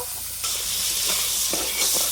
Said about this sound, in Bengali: একইভাবে সবগুলো এঁচড় ভেজে নেব